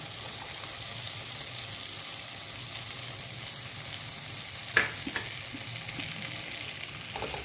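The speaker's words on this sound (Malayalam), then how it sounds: "തക്കാളി ഒന്ന് നന്നായിട്ട് വഴറ്റി കിട്ടണേ ഇനി ഇതിലേക്ക് ഞാൻ ചതച്ച് വെച്ച ആ മുതിരയില്ലേ മുതിര ഇതിലേക്ക് ഇടാൻ കേട്ടോ" Crushed horse gram and tomato fry in a pan with a steady, even sizzle while being stirred, with a couple of sharper clinks of the spoon partway through; no voices.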